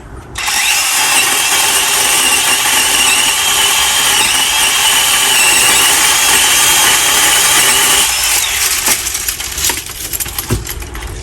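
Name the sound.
DeWalt 20V MAX cordless pole saw trimming a branch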